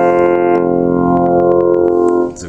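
A late-1980s Casio CT470 keyboard plays a deep, rich organ tone on low notes, one sustained chord held loud and close with a few short percussive blips over it before it cuts off.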